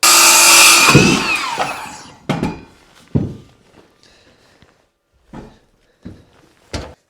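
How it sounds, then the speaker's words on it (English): Power saw cutting a 15-degree angle through a board for a camp roof, a loud roaring cut of about two seconds that winds down, followed by several separate knocks and thumps of handling wood. "The roof has a 15-degree angle in it, so I'm going to cut a 15-degree angle."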